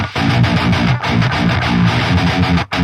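An 8-string guitar through a Fortin Cali Suite amp with the noise gate off plays heavy, distorted, chugging palm-muted riffs in choppy bursts, with brief gaps where amp hiss carries on.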